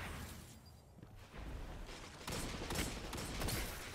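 Slug shotgun blasts in a video game, booming shots that thicken about halfway through into a loud, continuous stretch of gunfire layered with game noise.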